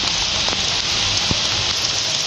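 Hail pours down during a storm in Coimbatore, a dense, steady hiss of pellets striking surfaces nearby, with a few sharper individual impacts standing out against the constant roar.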